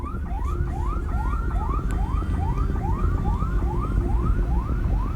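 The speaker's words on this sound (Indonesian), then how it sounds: "Ambulans hingga kini masih berdatangan ke lokasi untuk mengevakuasi korban tewas dan korban luka-luka." An ambulance siren wails loudly at the scene of a fatal bus and truck crash on the Pandaan-Malang toll road, its rising sweeps repeating rapidly and steadily over a low rumble of traffic.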